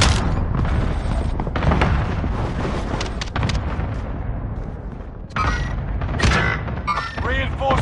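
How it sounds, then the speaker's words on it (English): Allied cluster strike explosions in a video game, a rapid series of loud booms and blasts rolling one after another, close and heavy, with a brief lull before further detonations. "Allied cluster strike arriving."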